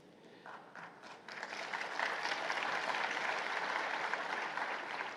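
An audience at the Africa CEO Forum summit in Kigali breaks into applause, starting with scattered claps that swell after a second into steady, fairly distant clapping from a hall full of people.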